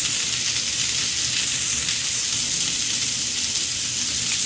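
Seekh kebabs sizzling in a pan over low heat, a steady soft hiss and crackle of frying running evenly throughout with no talk.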